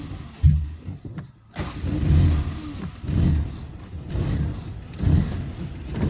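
A Toyota Corolla engine with a power loss fault cranks and catches, then idles roughly with repeated surges and dips, as if struggling to stay running.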